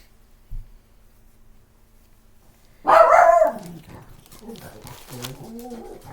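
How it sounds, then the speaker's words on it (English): A pet dog at home goes off after a car door shuts: a faint thump, then one loud close bark followed by quieter muffled whining or grumbling. "Somebody shut a car door and it caused my dog to go off."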